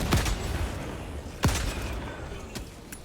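Sniper rifle shots in a shooter video game: two sharp, loud cracks about 1.3 seconds apart, each trailing off in a short echo, followed by fainter distant pops.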